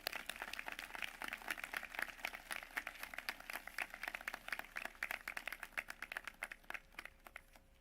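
An audience at a class of 2021 online recognition ceremony claps to welcome the class speaker, a dense, steady patter of applause heard fairly faintly and thinning out toward the end.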